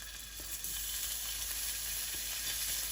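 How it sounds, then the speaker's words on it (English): Turkey sausage frying in oil in a pan, a steady continuous sizzle with faint crackles, close and alone. "And we're going to start frying the sausage."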